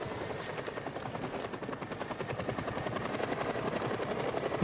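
A helicopter in a video game played on a PS5 controller gives off a steady, rapid rotor thumping that runs continuously and grows slightly louder toward the end, with no talk over it.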